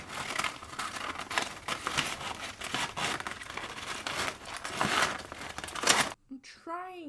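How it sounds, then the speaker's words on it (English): Paper rips and crinkles in irregular bursts in a room during guitar practice, the tearing and crumpling noises fairly close and uneven, then cutting off abruptly as a voice is heard briefly at the end. "If you hear any paper ripping noises, it's their fault."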